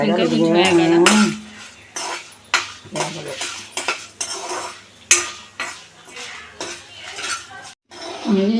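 Cluster beans frying in a pan and stirred with a metal spoon: repeated clinks and scrapes against the pan, with someone talking over much of it.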